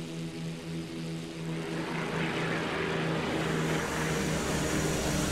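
A Cessna Grand Caravan C-208-B turboprop landing at Bartow Executive Airport: a steady propeller drone with a tonal engine hum and broad rushing noise, constant and fairly close, with no speech.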